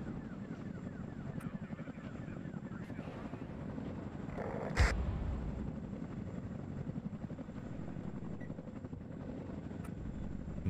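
A helicopter in the real-time strategy video game WARNO gives a steady rotor chop through the whole stretch, with one sharp impact near the middle.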